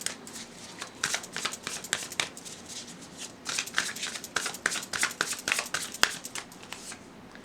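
Tarot cards being shuffled and drawn by hand, giving a steady run of crisp papery riffles and flicks with sharp snaps, close and fairly quiet, with no talking.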